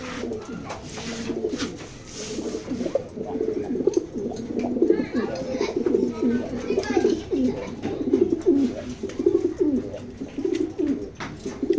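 A male pigeon of foreign show line coos repeatedly at close range in a loft, a steady run of low, throaty, rolling calls continuing throughout.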